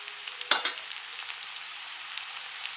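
Onions frying in a pan for chicken curry: a continuous soft sizzle with one sharp utensil clink early on, then an even hiss.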